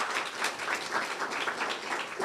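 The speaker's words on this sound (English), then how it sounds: "Give John a round of applause." Audience applause for Deputy Supervisor John Perticone at a police community forum, a steady wash of clapping from a crowd lasting a couple of seconds, with no talk over it.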